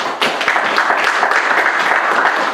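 Church congregation applauding together, a steady dense wash of many hands clapping that stays loud and continuous throughout.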